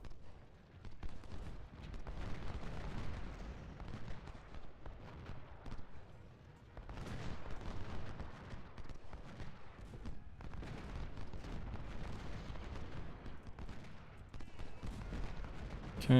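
Artillery fire on a Civil War battlefield at Gaines Mill in Ultimate General: Civil War rolls on as a steady, distant, muffled rumble of booms and crackling volleys, fairly faint, with occasional louder swells.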